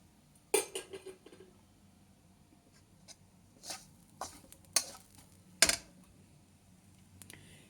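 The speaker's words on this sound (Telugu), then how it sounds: "ఇది నెయ్యి వేసాం కదా, నెయ్యిలో వేపుకోవాలన్నమాట." Grated coconut frying in ghee for coconut laddu is stirred with a utensil, producing sparse scraping clicks and taps against the pan, separated by quiet gaps over a faint low background.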